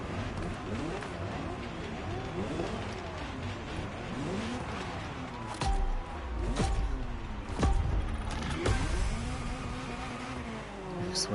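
A Ferrari races through Hawaii in The Crew Motorfest, its engine repeatedly climbing in pitch through the gears and dropping at each shift. Sharp bumps and a brief tire squeal break in, with faint talk underneath.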